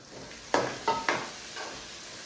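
Keema frying in a pan while being stirred: a faint, steady sizzle with three quick scraping stirs of a spoon against the pan, then a softer fourth scrape.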